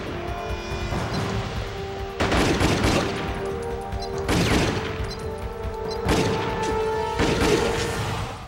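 Gunfire in Jet Li: Rise to Honor on PS2, repeated bursts of shots roughly every couple of seconds with booming impacts over a steady hum of game music.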